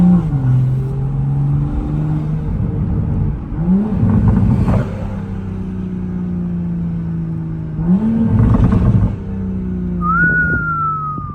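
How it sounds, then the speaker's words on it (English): A Toyota Supra fitted with a 5-inch downpipe revs in loud, sustained pulls, its engine drone rising and falling, while a high turbo spool whistle climbs and fades over the top near the end. "y'all hear that turbo spool though? I don't know if y'all can hear that, but it's just whistling"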